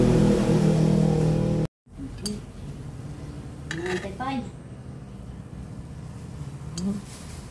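Crispy fried suman is set onto a plate with a few light clinks and scrapes of utensils and dishware, heard near and fairly soft after a steady kitchen hum cuts out, with someone speaking.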